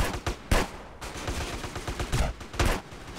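Gunfire in a video game roleplay server, with bursts of loud shots crackling and popping in quick irregular volleys, some close and punchy, others rattling in rapid succession.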